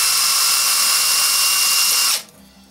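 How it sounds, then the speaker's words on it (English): A drill bit whines steadily as it bores through the wall of an aluminum Bud Light bottle, one loud continuous run that cuts off abruptly near the end, leaving quiet. "you'll feel your drill bit touching the inner wall as it pokes through"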